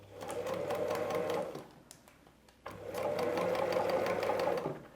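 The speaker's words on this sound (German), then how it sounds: "wenn wir weiter nähen, halten wir einfach nur den Nadelkopf fest, nähen auf unserer schwarzen Linie" Sewing machine stitching patchwork fabric pieces along a marked line, a steady, close mechanical whir in two runs separated by a short pause, with a low hum underneath.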